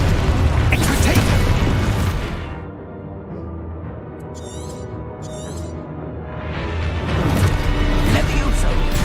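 A Confringo fire spell blasts in Hogwarts Legacy: loud, broad bursts of explosive noise at the start and end, with a quieter mechanical stretch between them.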